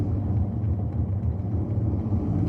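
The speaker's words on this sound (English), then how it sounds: "we have a little traffic here" Steady low road rumble of traffic heard from inside a car driving to work, a continuous engine and tyre drone with no talk.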